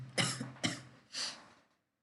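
Three sharp coughs from one person close by, the first two quick in succession and the third a bit later, with no talking.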